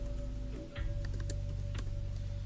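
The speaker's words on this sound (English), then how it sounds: "now you can start typing your data" Quick taps on a computer keyboard while entering spreadsheet data, a few light, irregular clicks over a steady low electrical hum, close and quiet.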